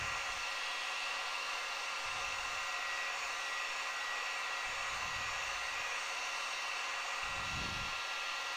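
A hair dryer blows on ink over polymer clay, a constant close-up whoosh with a fixed hum, and a few soft low thumps recur every couple of seconds.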